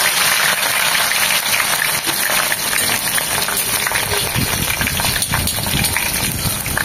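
A handful of coriander leaves frying in hot oil until crisp makes a loud, dense, continuous bubbling sizzle with a roaring, gushing quality, steady throughout with no talking.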